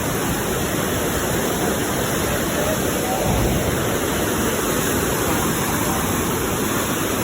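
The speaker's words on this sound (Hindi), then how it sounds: "तो पानी का आवाज़ बहुत खास आ रहा है." Steady, loud rushing of a waterfall, a dense unbroken roar of falling water filling the whole scene with no pauses.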